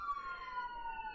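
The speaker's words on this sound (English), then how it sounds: "sirens." A siren wails from a busy road outside a house, heard from indoors as a steady, moderately faint tone gliding slowly downward in pitch for just over a second, with no other sound over it.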